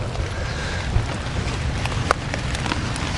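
Steady rain patters on surfaces close by, a soft continuous hiss with a few sharper drips landing here and there.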